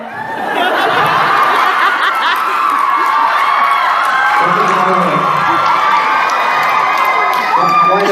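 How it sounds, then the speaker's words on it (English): A convention panel audience cheers, shouts and laughs in a dense, loud, continuous crowd roar with overlapping excited voices. "The crowd is very unruly."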